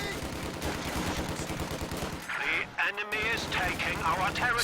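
Sniper shots and rifle fire crackle in a Company of Heroes 2 battle, a rapid run of gunfire cracks followed by scattered sharper reports, with a caster talking over them.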